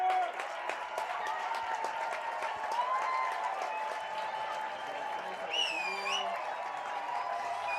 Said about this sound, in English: Boy, and the crowd goes wild here at Lindquist Field